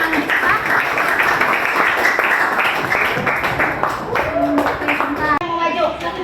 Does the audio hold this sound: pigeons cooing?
no